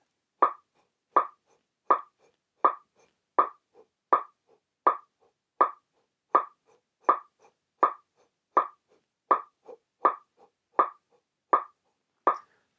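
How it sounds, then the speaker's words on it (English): Short sharp inhaled breaths taken in steady eighth notes, about sixteen evenly spaced puffy intakes over roughly thirteen seconds with faint metronome-like clicks between them, close and clear with no talking. "we're going to just inhale in eighth notes"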